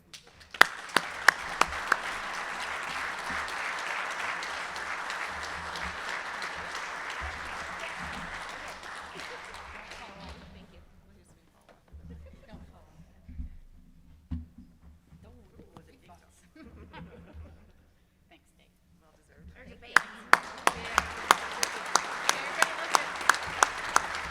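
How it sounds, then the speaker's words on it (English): An audience at a Rotary Club of Cincinnati meeting gives a sustained round of applause for about ten seconds. After a quieter stretch with faint talk and movement, clapping rises again near the end, loud and close. "I'd like to give them a round of applause"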